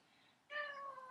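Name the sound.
cat meowing on kitchen floor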